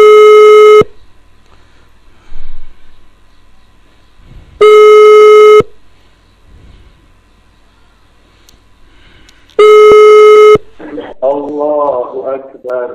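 Skype call ringing tone from a phone, three loud electronic ring bursts of about a second each, spaced roughly four seconds apart with quiet between, followed by a voice starting up after the last ring.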